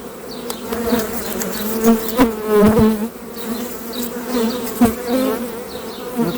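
A dense, close buzzing of many bees flying around a hive during an inspection, droning steadily with individual insects swelling louder as they pass nearby.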